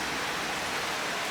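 Steady rain falling outside on a rainy day, a dense, even hiss of drops with no pauses, close and fairly loud throughout.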